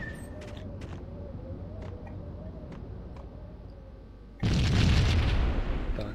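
An explosion in the video game Max Payne bursts in as a loud, sustained boom after a stretch of quieter ambient game noise with faint ticks.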